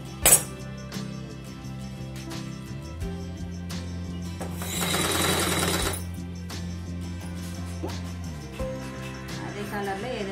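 A sewing machine stitches the high neck of a blouse in one short burst of fast, close mechanical whirring, set among quieter tonal sounds and a voice talking.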